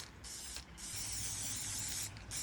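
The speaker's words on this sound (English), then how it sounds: "I'm just going to spray it with some primer, aerosol primer" An aerosol can of primer sprays onto a washing machine cover in three close, loud hissing bursts separated by brief pauses.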